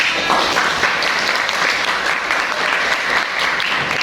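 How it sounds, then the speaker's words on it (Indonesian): A classroom group applauds during a classical guidance lesson, a loud, continuous patter of many hands clapping close by for about four seconds without any speech. "beri tepuk tangan"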